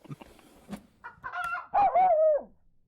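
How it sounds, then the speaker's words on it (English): A chicken clucks and crows from under a bed in a comedy scene, with a few soft knocks and rustles first, then a loud, drawn-out rooster-like call near the end, heard alone without talk. "Did I hear a chicken under the bed?"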